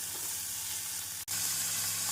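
Chopped onion hits hot oil with spluttering mustard seeds and cumin in a pan for a mushroom chilli masala, giving a steady, close sizzle throughout with one brief dropout near the middle.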